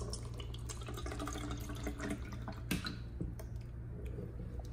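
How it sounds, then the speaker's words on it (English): Water poured into a small test cup for pH and TDS testing, a steady quiet trickle and splash lasting several seconds over low background hum, no talking. "Let's pour some water in."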